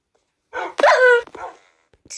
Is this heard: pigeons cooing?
no